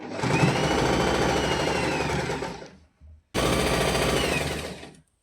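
A close, loud sewing machine runs fast while stitching a pair of pants, a dense rapid rattle lasting nearly three seconds, then after a short stop a second run of almost two seconds.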